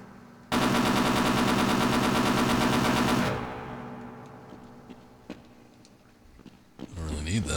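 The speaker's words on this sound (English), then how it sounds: "A manned turret." A manned turret in Half-Life on PS2 fires a loud, sustained automatic burst for about three seconds, then cuts off, leaving a faint hum with scattered small clicks.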